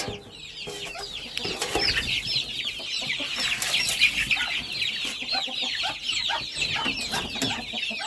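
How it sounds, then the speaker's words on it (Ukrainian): Busy chicks cluck and cheep constantly in a chattering flock, close by, with scratching and rustling underneath. "Ой що це за курчата?"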